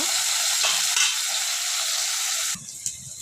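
Fish frying in hot oil, a steady dense sizzle close up that drops abruptly to a quieter crackle near the end.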